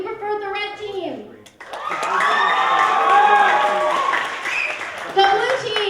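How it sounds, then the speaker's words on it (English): A school comedy-sports match audience applauds and cheers loudly for the red team, a sustained swell of clapping and shouting children after a brief spoken prompt. "So applaud now if you preferred the red team."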